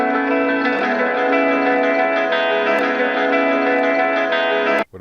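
A chopped sample slowed to halftime and run through echo, reverb and distortion effects, sounding as a dense sustained harmonic wash with faint rhythmic ticks, loud and steady before cutting off abruptly near the end.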